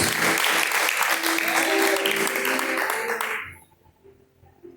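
A church congregation claps together in loud, dense applause for about three seconds, then the clapping stops abruptly and only a quiet room with a faint low hum remains.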